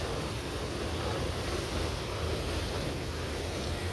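Steady, heavy rush of ocean surf and wind noise, loud and continuous throughout with no distinct breaks.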